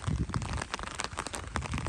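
Steady, continuous rain falls in a village in cold weather, with drops splashing into puddles and raising bubbles. The dense, even patter is close and fills the scene with no voices.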